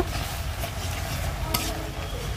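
Oil and ginger paste sizzling on boiled leafy greens in a pan, a steady close frying hiss with light stirring scrapes and one brief sharp crackle partway through.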